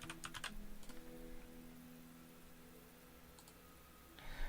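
Fingers tap on a computer keyboard at a desk, a few quick clustered clicks at the start, a short burst in the middle and more at the end, close and crisp over a low steady electronic hum.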